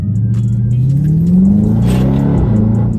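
A car engine fitted with a Pedal Commander revs up in sport mode, heard loud and close, its pitch rising into a strong growl and then falling back while it idles steadily.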